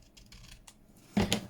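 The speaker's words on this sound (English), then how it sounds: "Then I'm going to cut part of this off." Scissors snip through paper for a junk journal, a quiet scrape at first, then a short, louder cut close by near the end.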